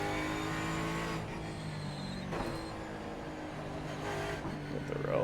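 A Ford Mustang GT4 racing around Sonoma in iRacing, its engine note dropping and blipping through downshifts under braking, steady and close with a brief lift in the middle and revs climbing again toward the end.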